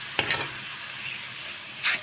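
Prawns go into a pan of fried spices and sizzle softly and steadily close by, with a couple of scraping stirs at the start and end and no voices.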